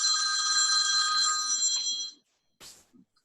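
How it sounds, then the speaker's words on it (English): A phone rings with a bright electronic trill during an online group call, sounding steadily for about two seconds at close range, then stops, followed by a brief clatter and a short murmur. "that was Ken's phone"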